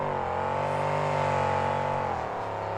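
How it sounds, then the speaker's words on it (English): A monster truck spins donuts at the opening of a freestyle track in a monster truck finals, its engine holding a loud, steady roar that drops in pitch near the end, close and continuous with no voices. "Now some donuts at the opening to the track."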